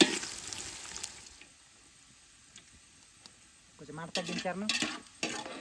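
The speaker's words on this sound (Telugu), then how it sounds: "చికెన్ బిర్యానీ కదా, బ్రౌన్ ఆనియన్స్ తయారు చేసుకుందాం ఫస్ట్." Onions frying until brown for chicken biryani, cooked outdoors at a rice-harvest field, give a steady close sizzle with stirring for a few seconds before voices take over.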